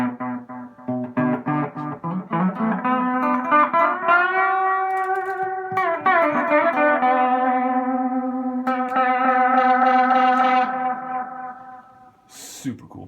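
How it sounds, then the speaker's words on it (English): Electric guitar run through a delay pedal with its gain turned up, phrases smearing into distorted, echoing repeats that swell and overlap, then trail off into a brief high squeal at the end. "You can hear the gain on the delays when I turn it up."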